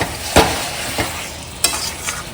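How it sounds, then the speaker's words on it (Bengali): Mutton leg pieces being sautéed and stirred in a pan, a constant sizzle broken by a few sharp scrapes of a spoon against the pan, close and alone. "এই যে মাটনটাকে এবারে কষাচ্ছি দেখো"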